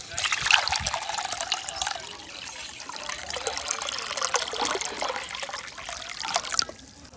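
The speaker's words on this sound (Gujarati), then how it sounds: "લેડો પાણીના કુંડામાં આપણે પાણી રેડી દઈએ" Water poured into a bird water pot on a rooftop, a steady trickling and splashing stream, close and fairly loud, continuing for several seconds before stopping abruptly.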